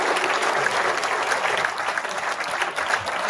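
An audience at a mayor's New Year greetings ceremony claps steadily and warmly, a dense wash of many hands filling the room without a break.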